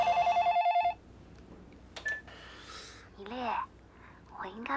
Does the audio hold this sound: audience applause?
no